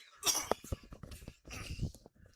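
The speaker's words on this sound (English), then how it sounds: "Can't stop coughing tonight." Someone gives a short burst of close, rough coughs, several in quick succession and then a second cluster, with throaty breaths in between, quiet overall.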